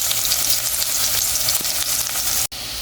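Curry paste fries with garlic and onion in a pot, a loud dense hiss of oil that runs steadily, with one abrupt break near the end.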